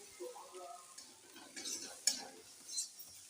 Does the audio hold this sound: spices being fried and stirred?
yes